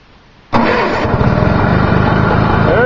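Vintage Evinrude rotary snowmobile engine fires up abruptly after a quiet moment and settles into a loud, steady running rumble close by.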